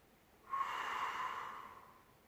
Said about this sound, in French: En n'ayant pas peur de faire du bruit avec la bouche en expirant.